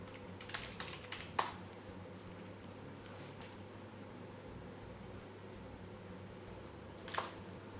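A password is typed on a computer keyboard beside a Jetson Nano or Orange Pi Zero 3 setup: a short patter of key clicks, a lone tap, a long quiet pause, then one more brief burst, all faint against soft fan hiss.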